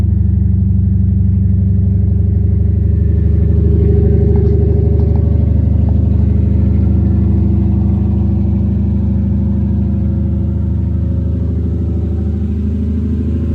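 Loud, steady cold-start idling of a 2003 Lexus GS430 engine close up, with a low, even rumble that holds throughout, rising only slightly near the start.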